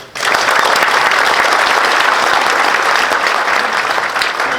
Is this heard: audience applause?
yes